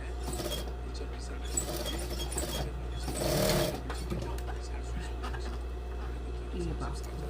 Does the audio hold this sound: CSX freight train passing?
no